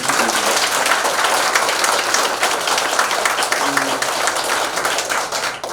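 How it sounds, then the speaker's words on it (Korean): A crowd at a political lecture event applauds warmly, dense steady clapping filling the room throughout without pause. "다시 한번 오늘 귀한 시간 내주신 우리 박주민 최고위원께 뜨거운 박수 부탁드립니다"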